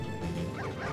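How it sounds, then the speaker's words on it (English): Several small cartoon dogs bark and yip in Super Mario Galaxy, a busy overlapping burst of high, bouncy barks over game music and effects, close and fairly loud. "Oh, look at all the little baby dogs going for a walk."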